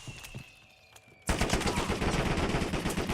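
Rapid video game gunfire erupts suddenly after a quiet moment, a loud sustained burst of automatic shots that continues to the end.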